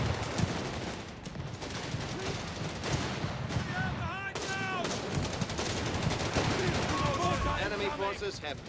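Mortar blasts and gunfire rattle through a Company of Heroes 3 battle, dense and continuous with scattered bursts, while a voice talks over the fighting.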